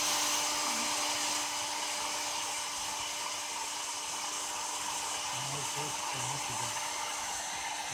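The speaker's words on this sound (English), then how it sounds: "Now we check using blower." A blower pushes a steady, even rush of air over an Arduino weather station sensor, close and unbroken for the whole stretch, with a faint tonal hum underneath.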